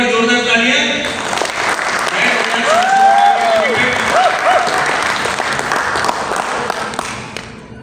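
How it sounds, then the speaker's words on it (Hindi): Loud, sustained audience applause fills a product launch event, dense clapping from a large crowd continuing steadily for several seconds before easing slightly, with a voice briefly audible at the start. "एक बार जोरदार तालियां"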